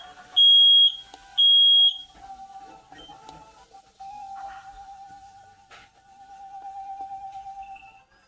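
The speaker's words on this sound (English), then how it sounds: "Ooh, the smoke detectors. The smoke detectors." Smoke detectors sound in a Pokemon video game, two short, shrill electronic beeps close together, followed by quieter game tones and a faint steady hum.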